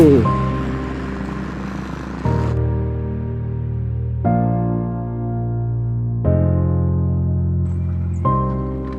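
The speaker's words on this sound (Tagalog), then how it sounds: "Yeah, jet ski." A jet ski engine drones steadily nearby in loud, harmonic bursts that cut off and restart every couple of seconds, with faint water wash underneath.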